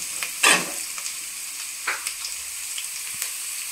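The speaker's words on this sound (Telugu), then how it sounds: "సో ఈ వెజిటేబుల్స్ అన్నీ కొద్దిసేపు ఆయిల్లో బాయిల్ అయిన తర్వాత" Mixed vegetables frying in oil in a pan for sweetcorn fried rice: a soft steady sizzle with a few sharp scraping stirs of a spatula, close and moderately loud, no voices.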